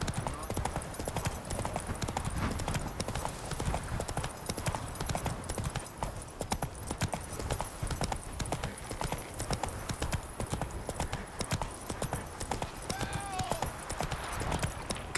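Roach the horse from The Witcher 3 clip-clops steadily at a trot, close and continuous, with an occasional snort or whinny and a voice speaking briefly over the hoofbeats.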